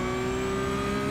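Porsche Cup car in the iRacing game, engine note held briefly and steadily during downshifting, a short loud mechanical tone with no talk.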